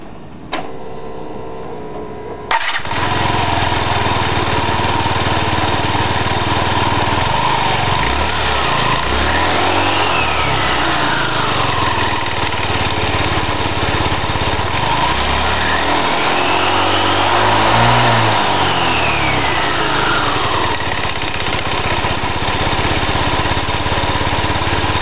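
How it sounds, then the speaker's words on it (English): A Yamaha C3 scooter's front pulley spins in close-up, giving a steady, loud mechanical whir with rising and falling sweeps, starting abruptly after a quiet opening moment and continuing without talk. "Here is a detailed view of the working of the front pulley."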